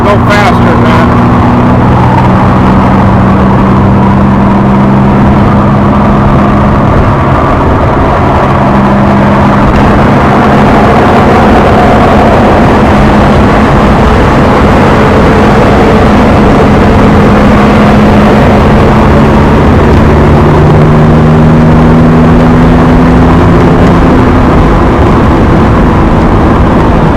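A 1970 Jaguar XKE Roadster cruising at highway speed, its engine droning steadily with drifting pitch under constant wind and road roar, while someone talks over it throughout.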